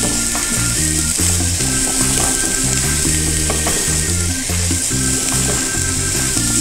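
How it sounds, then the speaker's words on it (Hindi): Vegetables sautéing in a pan for hot and sour soup give a steady sizzle, close and continuous, while a strong rhythmic mechanical clatter runs under it the whole time. "इनको थोड़ा सा सौते करना था।"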